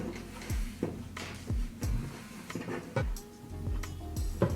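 A KAM snap fastener press sets pink plastic snaps on fabric, giving a series of short sharp clicks and thumps in an uneven rhythm, close and fairly quiet.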